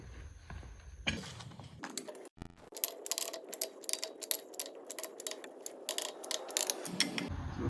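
Lug nuts being tightened on a third-generation Chevrolet Silverado during a brake job, a rapid clicking ratchet running in fast bursts, close and clear, after a few preliminary metallic clunks.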